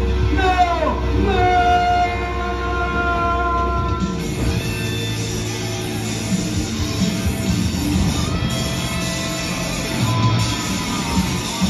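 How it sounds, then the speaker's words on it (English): A Tweetsie Railroad amusement park train pulls in with a continuous low rumble and steady mechanical hum, a horn-like tone sounding at the start, with faint voices mixed in. "The train pulls in."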